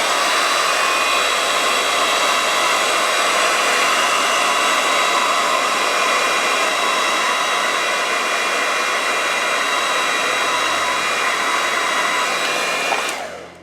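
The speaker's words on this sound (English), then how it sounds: "If you're using a hairdryer to heat this part up, don't heat up the vinyl" A hair dryer blows steadily and loudly on a vintage Masters of the Universe action figure's leg, a continuous close whooshing roar that holds for about thirteen seconds before cutting off abruptly.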